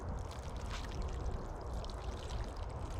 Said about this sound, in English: We're gonna give it a little water.